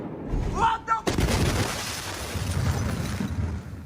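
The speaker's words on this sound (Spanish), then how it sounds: "la devastadora explosión en el puerto de Beirut" At the Beirut port, a massive explosion erupts with a sudden loud boom and gives way to a long, rolling rumble. Brief excited voices come just before the blast.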